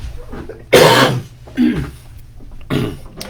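A person coughs three times, loud and close, in separate harsh bursts with short pauses between them, and no other talking.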